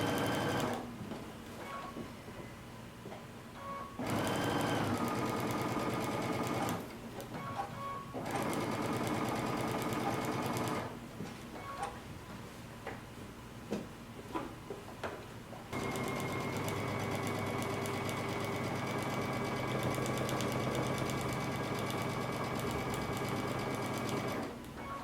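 A sewing machine stitches a cape lining about an eighth of an inch from the seam, running steadily close up with a high whirring drone, briefly pausing and restarting a few times, with no talking.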